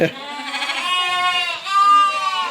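Sheep and a lamb bleat inside a barn on a snowy day, a few sustained, wavering nasal calls close by that follow one another with a brief gap, with no speech over them.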